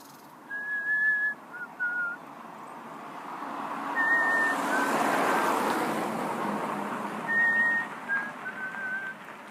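Someone whistles an imitation of a bird's mating call three times: one high note followed by two lower notes, with steady traffic hum underneath.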